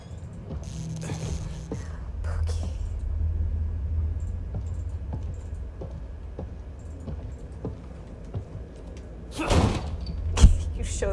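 A door bangs inside the horror video game The Evil Within 2, with heavy thuds and slams rising near the end over a low rumbling game ambience, with occasional voices.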